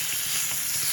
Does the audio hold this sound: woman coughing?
no